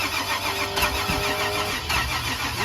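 A Nitrous Nova drag car's engine cranking on the ignition, a steady droning starter whir under loud broadband mechanical noise, close by, without catching or revving up, no voices.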